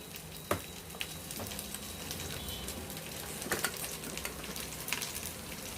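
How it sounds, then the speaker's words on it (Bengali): Mung dal frying in a hot wok: a steady, moderately quiet sizzle scattered with small crackles and pops, with no voices. "ফার্স্টে আমরা মুগ ডালটা ভেজে নেব"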